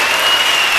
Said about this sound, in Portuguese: Agora aplauda bem forte o nome santo de Deus.